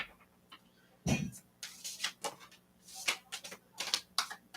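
Quick bursts of riffling, flapping card noise come in irregular clusters, with short pauses between shuffles, close by.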